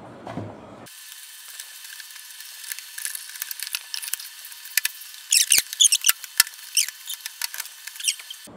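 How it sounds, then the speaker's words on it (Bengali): A plastic filter part of a Pureit water purifier is twisted tight by hand, producing a series of small ratcheting clicks and scrapes that grow denser midway, close and alone. "এটাকে এইভাবে ঘুরিয়ে এখানে টাইট করে লাগিয়ে দিতে হবে"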